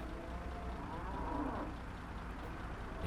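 A cow moos in the trucking game American Truck Simulator, one drawn-out low call rising and falling over a constant engine-like hum.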